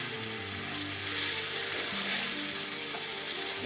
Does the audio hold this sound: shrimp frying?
yes